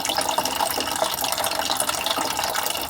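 Water drains out of a camper van's insulated water tank, a steady close splashing and gurgling flow that keeps up without a break.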